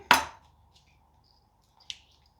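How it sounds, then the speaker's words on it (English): A lemongrass stalk bashed on a chopping board while preparing Thai curry laksa: one sharp loud knock followed by a softer second tap, close by in a quiet kitchen. "give it a bit of a bash"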